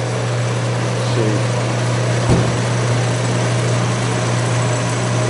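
A small engine drives a model cable tool oil drilling rig at the Kansas Oil Museum, giving a steady, droning hum with one brief knock partway through.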